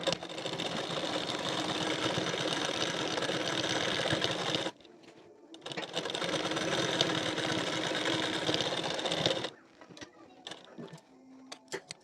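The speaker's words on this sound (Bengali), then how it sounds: "এখন কলারটি এখান থেকে পুরোটা সেলাই দিয়ে নেব" A sewing machine stitches a blouse collar in two long, loud, steady runs of rapid whirring, separated by a short pause, then falls quiet except for a few faint clicks.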